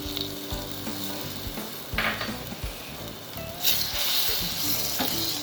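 Mango ginger pickle frying in a pan, a loud continuous sizzle with bursts of hissing and occasional stirring scrapes and clinks against the pan, close and steady throughout.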